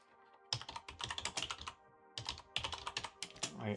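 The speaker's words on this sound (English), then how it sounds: "I hate how my keyboard sounds on the microphone" Rapid typing clatters on a computer keyboard in two quick bursts, with a short pause between them. It sounds close and crisp.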